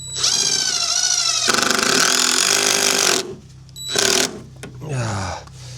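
Screws driven with a power drill into wood while building a cabin in extreme cold, two long loud whirring runs followed by shorter bursts as the drill slows and stops.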